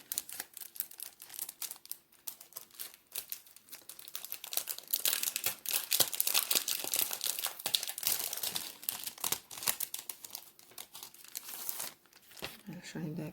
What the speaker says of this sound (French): J'enlève de la pochette.